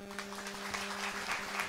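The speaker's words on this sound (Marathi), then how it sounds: "एवढं टाळ्या वाजवल्या तुम्ही" An audience at a Marathi kirtan during a Shri Shyam Baba death-anniversary festival in Balapur claps steadily, a dense patter of hands filling the room with no voices over it.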